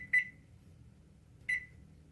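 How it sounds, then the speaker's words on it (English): Kitchen timer beeping as it is set, two short, clear electronic beeps about a second and a half apart over a quiet kitchen background. "So let me set the timer."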